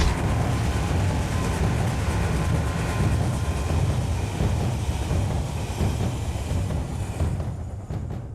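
A passing subway train in the video game Alice: Madness Returns rushes by with a loud, dense rumbling roar and faint rail clatter, steady throughout and thinning slightly at the end, with no voices.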